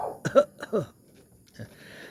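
A couple of small, restrained coughs close by, short and quiet, followed by a brief pause and one softer cough.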